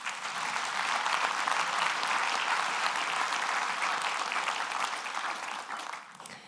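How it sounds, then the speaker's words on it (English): A conference audience at a startup event applauds steadily, a dense, even wash of clapping heard from a distance that holds for several seconds and then fades out. "Give them a round of applause"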